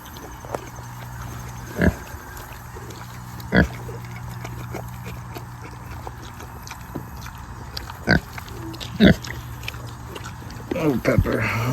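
Pigs grunt on a farm in short, separate bursts, several loud near bursts spaced a few seconds apart over steady background noise, with people talking nearby.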